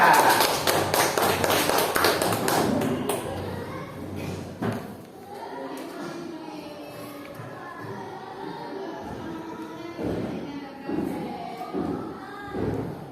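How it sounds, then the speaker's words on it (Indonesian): Classroom applause for a group of pupils during a science lesson on photosynthesis: a burst of rapid clapping for about three seconds, then it fades into children's chatter and scattered taps and thumps. "Tepuk tangan untuk kelompok tiga"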